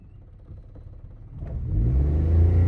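A car engine idles low and then rises into a steady, growing rev as light throttle is applied during a slow reverse on a dirt patch, the hum swelling and holding near and loud.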